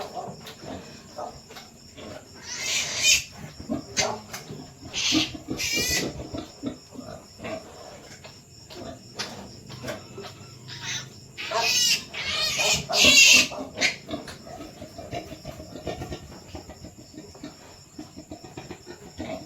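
Pigs, including replacement breeding sows, grunting and squealing in short bursts, some shrill, against a steady background of insect chirring.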